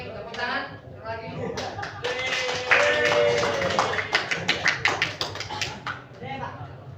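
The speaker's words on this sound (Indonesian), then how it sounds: "Oke, tepuk tangan." A classroom of students breaks into applause, at first scattered under loud chatter and voices, then settling into a run of distinct, evenly spaced group claps near the end, close and clear.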